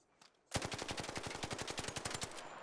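A level 1 Stitcher gun without mods firing in the video game Arc Raiders, a sudden loud burst of rapid automatic shots in even succession lasting about two seconds.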